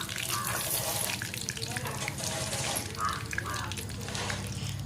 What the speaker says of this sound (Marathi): आता थोडंसं आतमध्ये जे पाणी असेल ते त्याला तर गेलं की असं तडतड वाजलं जातं